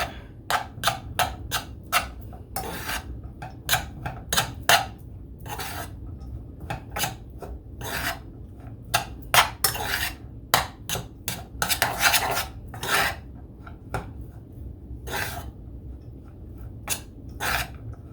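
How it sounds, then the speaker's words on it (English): A utensil stirring rice with garlic in a pot, producing repeated scraping and clinking strokes against the metal in an irregular rhythm, close and clear throughout with no speech. "let's mix it up"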